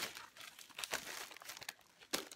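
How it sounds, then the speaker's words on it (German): Plastic shopping bag crinkling and rustling close up as it is set aside, with irregular crackles and a few sharper crunches over a couple of seconds, quiet and without talk. "So, ich stelle die Tüte jetzt weg"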